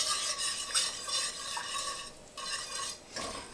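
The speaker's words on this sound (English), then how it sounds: "And then 2 cups of heavy whipping cream." Heavy whipping cream pours into a hot pan, bursts of bright hissing sizzle with brief dips between them, close up, with no voices.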